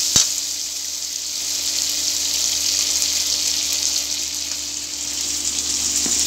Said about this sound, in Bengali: বিভিন্ন রকমের সবজি কেটে নিচ্ছি, সুন্দর করে পরিষ্কার করে ধুয়ে নিচ্ছি